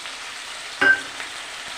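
A splash of water hitting a hot pan of frying ground spice paste for a Bengali rohu fish curry, a short burst of hiss over a soft, steady sizzle.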